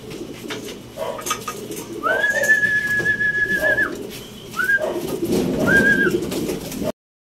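Racing pigeons at a training release in San Pablo, Laguna, with a clear whistling tone and low cooing over a muffled background of rustling and handling noise.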